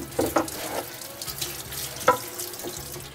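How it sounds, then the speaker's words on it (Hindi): Water splashes from a tap onto a hot metal kebab skewer to cool it in a kitchen, a few short bursts of running water with faint drips between, close by and without talk. "ये सीख चूँकि मैंने आपको बताया गर्म हो गई थी, इसको थोड़ा सा पानी मार के ठंडा कर लें"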